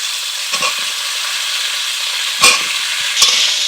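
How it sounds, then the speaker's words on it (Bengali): Potatoes and cauliflower frying in oil in a pan give a loud, steady sizzle, with a few scraping stirs breaking through and no talking. "এর মধ্যে আমি আলুগুলোকে দিয়ে দেবো, আলুগুলোকে একটু ভেজে নেব।"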